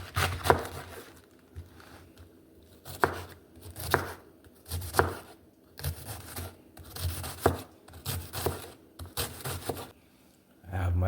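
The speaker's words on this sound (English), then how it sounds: "I'm gonna get my cabbage cut up now." A knife chops cabbage on a cutting board in quick bursts of firm, close thuds separated by short pauses, with some quiet talk between them.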